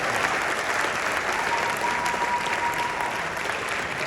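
An awards-ceremony audience applauds the Vice President of Ghana with steady, dense clapping that holds at an even level throughout, with no break.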